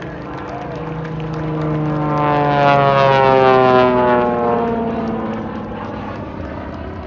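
An aerobatic propeller plane's engine drones loudly at an air show, its pitch sliding steadily as it swells to a peak and then eases away, with no talking.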